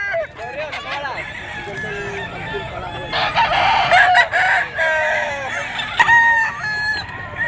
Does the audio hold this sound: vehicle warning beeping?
no